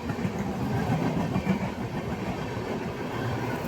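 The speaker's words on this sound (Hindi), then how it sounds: "कटिहार दिल्ली चंपारण हमसफर एक्सप्रेस ओवरटेक करे अपने अमृत भारत एक्सप्रेस को गाजियाबाद जंक्शन पे।" A Katihar–Delhi Champaran Humsafar Express train overtakes at Ghaziabad Junction, a steady close rumble of wheels and carriages rolling past without pause.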